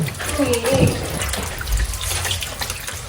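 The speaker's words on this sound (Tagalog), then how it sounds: "at atin na po nahugasan itong mga ubi" Running tap water rinsing purple ube yams in a sink, a continuous splashing flow with faint voices in the background.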